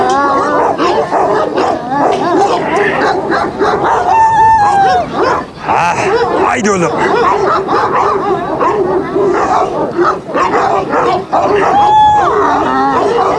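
Dogs bark, yip and whine close by in an excited, uneven series, with someone speaking briefly among them.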